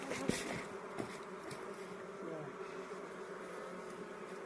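Honey bees hum and buzz steadily during a spring hive inspection as frames are set back together, a dense close drone with a few sharper passing buzzes and light handling knocks.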